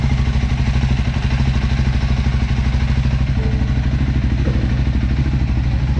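A Scrambler 400 X motorcycle engine idles after a tensioner update, with a steady, close, loud, even thumping beat that continues without a break throughout.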